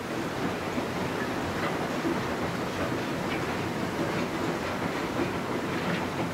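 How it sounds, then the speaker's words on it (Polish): A Bolter Miner mining machine grinds and rumbles steadily in an underground coal mine at KWK Budryk, a dense, continuous mechanical roar without pauses. "Bolter Miner jest to pierwszy w JSW i pierwszy w górnictwie węglowym w Polsce tego typu"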